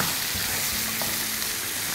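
Cashew and onion paste with green chilies and ginger frying steadily in a hot pan, a continuous close sizzle with faint stirring, no voices.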